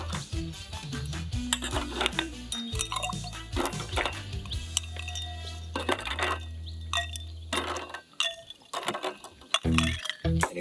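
Ice clinking into a cocktail glass of Tanqueray No. Ten spritz-style drink, scattered bright clinks and taps with some liquid drips over a low background hum, close and moderately quiet.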